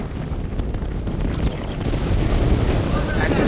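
Strong wind buffets a rough seashore during a tsunami warning, producing loud, constant roaring gusts and crashing surf noise that build steadily, with no clear talk.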